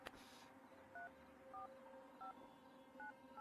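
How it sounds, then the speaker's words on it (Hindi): A telephone dials a call, sending a series of short paired touch-tone beeps at an even pace, four or five tones spaced about half a second apart, clear but fairly quiet with no talking. "यार तू फोन लगाएगा ठीक है प्लीज?"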